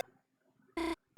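A phone rings in the video game Deltarune Chapter 4: two short, loud electronic ring bursts, close and clear, separated by a brief quiet gap.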